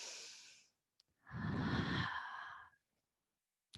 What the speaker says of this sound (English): Take a deep breath in through the nose, out to the mouth